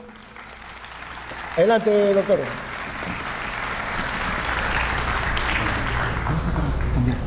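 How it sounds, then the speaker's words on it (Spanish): Someone speaks briefly in Spanish at a science conference, then a room of attendees breaks into applause to welcome the next speaker, the clapping swelling and holding steady to the end. "por favor, con un fuerte aplauso."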